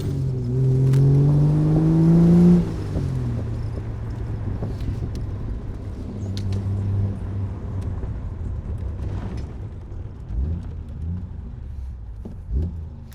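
A straight-six engine in an Ace-style car revs hard, its rising note climbing over a couple of seconds before dropping back to a lower rumbling drive with a few smaller swells.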